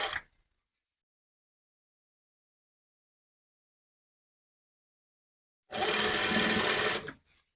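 A sewing machine runs steadily for about a second and a half near the end, stitching kurti fabric cut from an old saree, after a short burst at the start and long silence.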